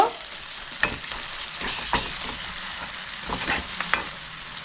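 Ground turmeric, cumin and chilli powders stirred into tomato masala frying in a pan for a stingray fish curry: steady close sizzle with repeated scraping strokes of the spoon.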